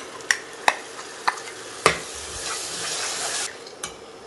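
Ground tomato puree sautéing in a pan for chole masala, a soft steady sizzle punctuated by several sharp clinks of a spoon against the pan as it is stirred, fairly quiet and without talk.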